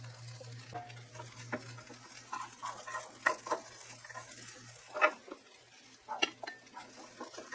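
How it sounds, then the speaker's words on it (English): Chopped sirloin pork frying in a pan for Japanese-style fried rice, a low sizzle under repeated scraping stirs and clinks of a utensil against the pan, close up with a faint steady hum behind and no talking. "Next we add in the pork."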